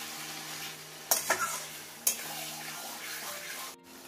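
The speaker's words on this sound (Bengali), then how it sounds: "মাংসটাকে আমি এবার সুন্দর করে এই লঙ্কার গুঁড়োটাকে একটুখানি ভালো করে মিশিয়ে নিই" Chicken pieces being stirred with chili powder in a pan, with soft sizzling and scraping under a few sharp utensil knocks against the pan, close and fairly quiet.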